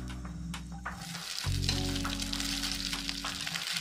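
Boiled rice tossed into a hot pan of fried spices for jeera rice, giving a loud, steady sizzle that swells when the rice goes in, with stirring scrapes throughout.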